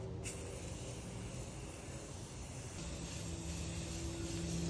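Steady hissing spray from an aerosol can, close and continuous for several seconds, with no talking.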